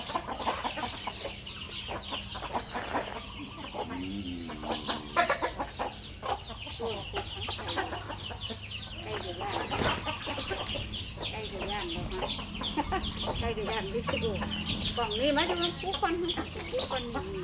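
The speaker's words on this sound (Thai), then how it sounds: "น้องกำลังเอาข้าวให้ไก่อยู่นะครับ" Chickens cluck and chatter continuously while being fed rice at a rural home, many birds close by in a busy flock, with people talking over them.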